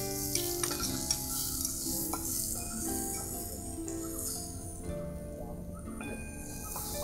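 Shallots drop into a pan of frying chili, ginger and garlic, and a steady close sizzle runs throughout, broken by light stirring clicks and rattles.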